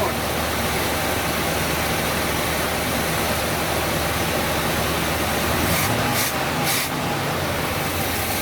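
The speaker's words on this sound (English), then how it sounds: "Started right off, the engine's not shaking." A 1970 Buick Wildcat idles steadily on a new Quadrajet carburetor, a dense, constant close rumble with a brief change in texture near the end and no talking.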